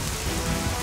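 Steady rain patters down in the Orion Dino Beatdown video game, a dense, even hiss of drops that carries on without a break for the whole moment.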